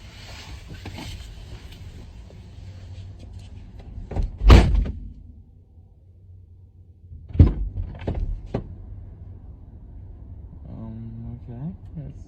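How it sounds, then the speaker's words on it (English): A car door is slammed hard, once sharply and then again a few seconds later with a rattle, close and loud inside the car, with muffled voices and a low idling rumble around it. "Stop slamming my motherfucking door."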